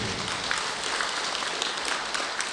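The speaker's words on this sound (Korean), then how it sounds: "뜨거운 찬탄의 박수 부탁드립니다" A Buddhist temple congregation gathered for a memorial rite claps together in a thick, continuous patter of many hands that holds steady from start to finish.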